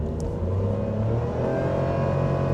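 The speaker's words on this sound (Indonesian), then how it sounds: "masuk banget suaranya. Ngeraung banget mesinnya." Inside the cabin of a 2022 Toyota Raize GR with a 1000 cc engine, the motor drones and revs steadily as the car pulls, a loud continuous mid-pitched hum rising slightly with no talk over it.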